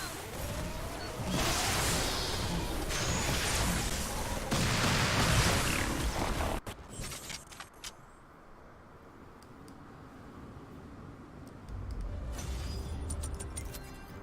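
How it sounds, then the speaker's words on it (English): Video game explosions in Fortnite: loud rumbling blasts and crackling bursts pile up in a dense barrage, then drop away to scattered distant pops before another heavy roar rises. "You probably can't even hear me right now over the sound of all these explosions."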